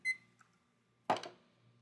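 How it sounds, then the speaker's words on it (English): A countdown timer goes off with a single loud ringing burst after a quiet stretch, preceded by a brief electronic beep near the start. "Do not stop talking until you hear the timer ring."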